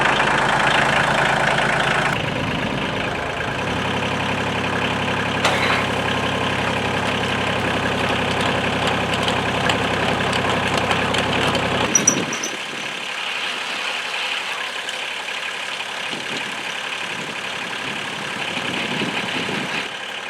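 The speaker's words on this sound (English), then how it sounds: "So now I got to auger one more hole here." Engine-powered auger drilling a fence post hole into ground with sandstone, a steady loud engine drone that cuts off abruptly partway, leaving quieter outdoor ambience.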